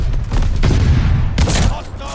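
Shotgun blasts in the video game Call of Duty: Vanguard, a couple of heavy booming shots close together in the middle of dense in-game noise and a speaking voice.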